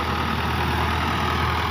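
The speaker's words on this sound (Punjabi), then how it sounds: "ਇਹ ਜਨਾਬ 1968 ਮਾਡਲ ਟਰੈਕਟਰ ਹੈ, ਰੂਸੀ ਗੋਲ ਸ਼ੋ ਵਾਲਾ।" A 1968 model Russian tractor with a round-nosed front idles steadily, a close, even engine drone holding for a couple of seconds without talk.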